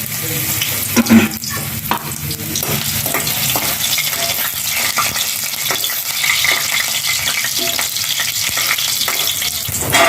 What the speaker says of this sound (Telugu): మూడు డొక్కులు నూనె వేసుకున్నాం అల్లం ముక్కలు వేసుకుంటున్నాను